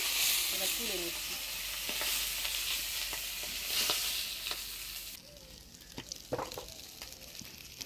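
Boiled potatoes frying in a pan with turmeric and salt, a loud continuous sizzle with scraping stirs, dropping sharply quieter halfway as the heat fades, leaving sparse crackles and utensil knocks.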